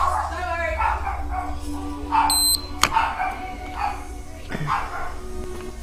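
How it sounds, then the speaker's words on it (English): Dogs bark excitedly in a house, several yips and woofs in quick bursts scattered throughout, fairly close, with a brief high electronic beep partway through and a person's voice mixed in. "Dogs are going crazy."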